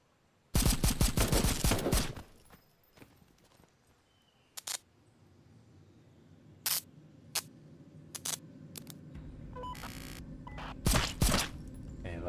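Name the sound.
gunshots in video game Kinki Spiritual Affairs Bureau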